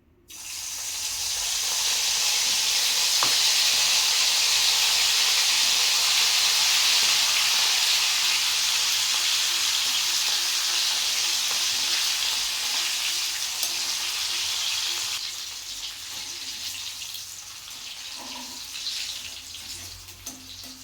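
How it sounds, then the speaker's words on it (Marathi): Bitter gourd (karela) pieces fry in hot oil, a loud, steady sizzling hiss that holds for most of the stretch and then eases slightly toward the end. "ही कारली आपल्याला सर्व अशी तळून घ्यायची आहे"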